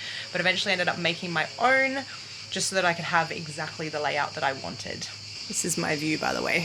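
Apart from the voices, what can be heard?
crickets chirping outdoors in Nice, France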